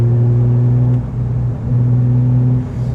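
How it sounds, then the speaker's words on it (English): Steady, loud engine drone from a Porsche GT3 with a non-valved Manthey Racing exhaust, holding a low, even hum that dips slightly twice while cruising. "It's a non-valved exhaust"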